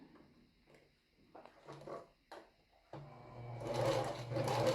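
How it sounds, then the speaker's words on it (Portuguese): After a few quiet handling bumps and rustles, a sewing machine starts up and runs a straight stitch along the edge of a bra cup, a close, steady whirring hum. "bem na beiradinha aqui do bojo, eu vou fazer uma costura reta"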